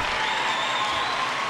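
Crowd applause from the tennis video game Top Spin 4, a dense, steady clapping from a stadium audience at fairly loud level, without talk.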